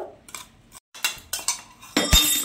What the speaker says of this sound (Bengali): চিনিটা আমি সব দিয়ে দিলাম, দিয়ে ভালো করে মিশিয়ে নিলাম।